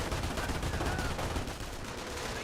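Machine gun fire crackles in a Company of Heroes battle, a steady dense rattle of automatic bursts mixed with scattered gunshots, fairly distant and continuous under a busy wartime din.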